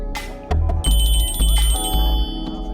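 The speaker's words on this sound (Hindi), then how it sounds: "बज रहा है आपका फोन।" A phone ringtone chimes in short electronic tones, loud and close, with no one speaking.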